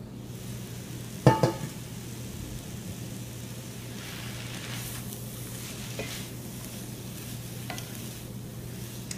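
Onions sweating in a pan over medium heat, a steady soft sizzle and crackle throughout, with one sharp clatter early on and a few faint ticks later.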